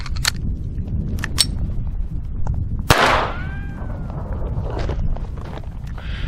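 A Browning pistol loaded with Winchester ammunition fires a single sharp, loud report outdoors at close range, followed by a brief ringing tail.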